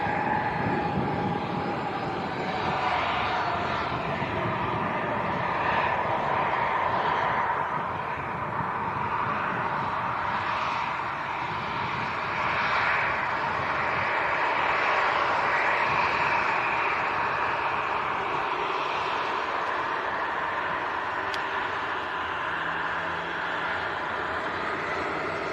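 Ryanair airliner bound for Dublin, carrying Maltese registration, at Leeds Bradford Airport: a steady, fairly loud engine roar holds throughout with a broad rushing wash and no voices.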